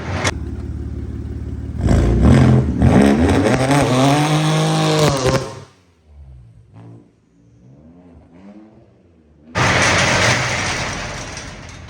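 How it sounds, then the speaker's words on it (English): An all-wheel drive car does a burnout. The engine roars loud and close for several seconds with rising revs, drops to a sputtering idle with clatter, then roars again at full volume. "Did a little all-wheel drive burnout"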